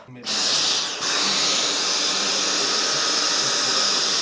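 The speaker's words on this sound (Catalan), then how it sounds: "Estic agafant l'aspirador perquè no sabia que sota el llit tenia tanta mugre" A vacuum cleaner switches on and runs with a steady, loud high-pitched whine while cleaning dirt from under a bed, with a brief dip in pitch early before settling into a constant drone.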